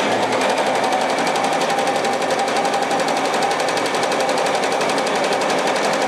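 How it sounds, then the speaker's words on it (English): A computerized embroidery machine stitching a logo sample runs continuously, with a fast, even, rattling needle chatter that stays loud and close throughout and no voices. "So looks like we're ready here to do a sample. So let's start it up. The machine's going to go to the colors that we had picked over here."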